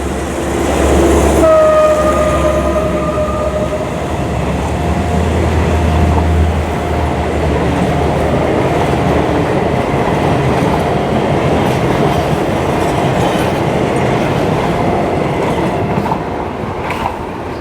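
A train horn sounds briefly near the start at a railroad crossing, followed by the loud, continuous rumble and clatter of a train rolling past up close.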